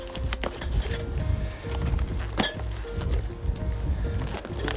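Glass globes clink and knock inside a cardboard box as it is shaken, a string of short sharp clatters repeating over muffled rustling.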